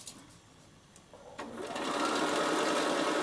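A Bernina sewing machine runs a steady standard-length stitch along a half-moon bag seam, starting up after a short quiet stretch and then humming loudly and continuously to the end.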